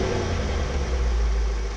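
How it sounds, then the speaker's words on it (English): A 2020 Jaguar F-Pace SVR's 5-litre supercharged V8 runs with a deep, steady rumble, heard close and loud for under two seconds with no talking. "SVR has a 5-litre supercharged V8, and it sounds like this."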